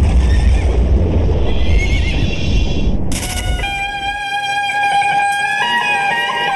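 A kuda renggong dancing horse at a traditional Sundanese performance lets out a loud, close, drawn-out whinny that rings clearly after a noisy opening stretch of bustle.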